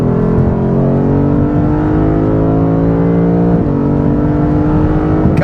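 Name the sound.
2021 Lexus RC F Fuji Speedway Edition engine accelerating on track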